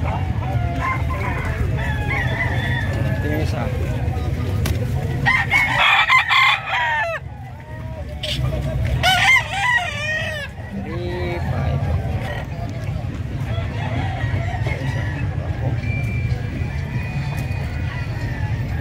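A flock of chickens and roosters at a livestock market in San Carlos City, Pangasinan, crowing and clucking steadily for a long stretch, with a few louder bursts in the middle and a person talking over the birds.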